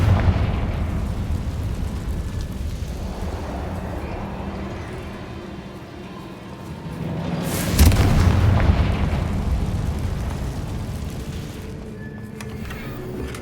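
Fire spell explosion in a Hogwarts video game, a loud booming blast with a sharp burst midway over a dense, roaring low rumble that lingers throughout.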